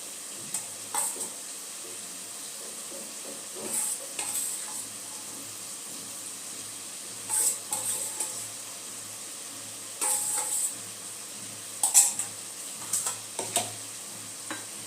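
Prawns frying in a pan for a lau chingri bottle gourd dish, with a faint steady sizzle and several short bursts of scraping as they are stirred at intervals.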